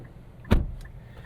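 A car door on a Nissan Sentra SL shuts once with a short solid thump on a snowy night, followed by faint interior clicks and a quiet cabin with no talking.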